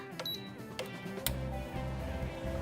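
A few short electronic beeps and clicks as a NuWave Oven Pro Plus countertop oven is set for 15 minutes, followed by a low steady hum as it starts running nearby.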